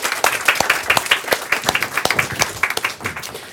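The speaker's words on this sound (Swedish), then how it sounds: "Vi ger en applåd." An audience gives a burst of lively applause at a Swedish seminar with visiting politicians: dense, close, rapid hand clapping that keeps going steadily before it starts to thin out.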